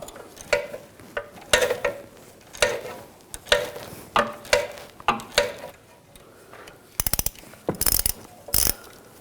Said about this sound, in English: I'm going to use a 5mm hex socket. Take this bolt out.